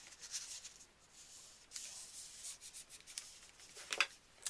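Paper folds of a Halloween matchbook album are burnished, giving soft scattered rubbing and scraping strokes, faint and close, with brief pauses and a sharper scuff near the end.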